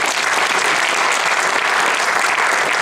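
Audience applause after a live jazz performance: loud, dense, sustained clapping from a full crowd that fills the whole clip with little else audible.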